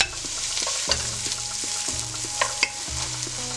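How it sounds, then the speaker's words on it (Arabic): Small-diced onion frying in a large spoonful of ghee in a pot, giving a steady close sizzle with periodic scraping stirs and a few sharp knocks. "وهلأ بطنجرة بنحط معلقة سمنة كبيرة، وبضيف بصل كبيرة مقطع مكعبات صغيرة"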